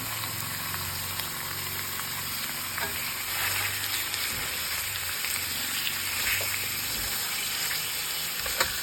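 Onion and garlic sauté in a hot pan at the start of cooking igado, giving a steady, close sizzle and crackle that holds evenly for the whole stretch with no talking.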